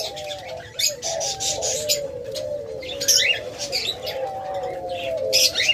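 Caged pet birds at a bird market, including lovebirds and doves, chirp and call continuously, with repeated tweeting bursts and cooing over a steady background, fairly close and lively throughout.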